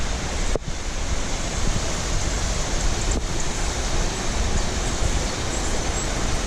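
Antong Falls waterfall in Sison, Pangasinan, roars as a steady, loud broadband wash of falling water, continuous and close throughout with no voices.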